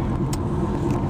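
Car being driven, heard from inside as a steady low engine and road rumble, brief and fairly loud with no voices.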